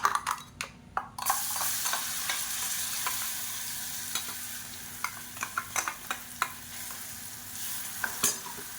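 A ground spicy chutney paste is stirred in the same oil used to fry dried red chillies and coriander, sizzling steadily under repeated sharp scrapes and clinks of a spoon against the pan, close and alone.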